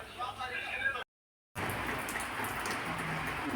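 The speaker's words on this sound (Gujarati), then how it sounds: "જો વરસાદ ચાલુ થઈ ગયો છે," Steady rain patters on surfaces outdoors, a dense, even hiss that breaks off into brief silence before resuming just as strongly.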